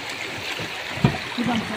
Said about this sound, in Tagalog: Tubig dito ang linaw.